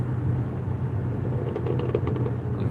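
Low rumbling engine and road noise from a car passing nearby during a food-delivery drive, with a steady drone and a few faint crackles; the BMW's pops-and-crackles exhaust tune is not clearly distinct.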